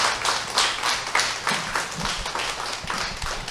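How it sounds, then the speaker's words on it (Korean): Applause from a seminar audience welcoming a guest lecturer, a steady wash of many hands clapping at moderate volume with no speech over it. "강사님 나오실 때 환영에 큰 박수 부탁드리겠습니다"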